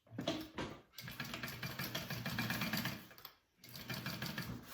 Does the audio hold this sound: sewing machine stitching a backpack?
yes